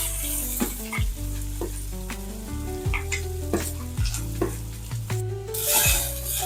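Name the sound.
onion sautéing in oil for daliya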